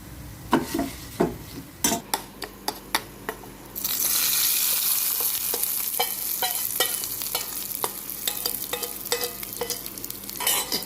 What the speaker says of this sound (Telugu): ఈ వేడికి కొద్దిగా మనం నువ్వులు వేసేసుకుందామండి. ఈ వేడికి ఫ్రై అయిపోతాయి